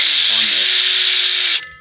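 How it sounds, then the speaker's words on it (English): Drilling a hole into natural stone with a masonry drill bit, a loud, steady high-pitched whine with grinding that runs continuously and then cuts off sharply. "Now I have to drill it out one more time."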